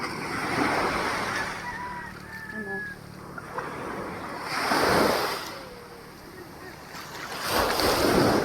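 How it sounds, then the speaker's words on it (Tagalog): Strong ocean waves crash in heavy surges a few seconds apart on Ransohan Beach, with wind noise rumbling in between and faint voices early on. "Sobrang lakas ng alon, guys."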